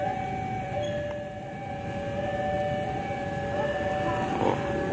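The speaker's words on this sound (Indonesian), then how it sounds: "Perlintasan menutup dan ini kereta api Mutiara Selatan" The Mutiara Selatan train rolls past a closing level crossing near Surabaya, a loud steady rumble of wheels on rail with a sustained warning tone ringing over it and a sharper squeal near the end.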